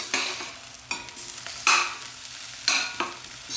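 Potato samosa filling with coriander and green chillies being stirred in a pan, a spatula scraping in several distinct strokes over a soft steady sizzle, close and fairly loud.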